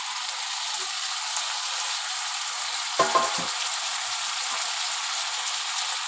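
Pufferfish pieces going into a hot pan of oil and garlic paste, giving a steady loud sizzling hiss throughout with a short clatter of utensils or the fish dropping in near the middle. There is no talk.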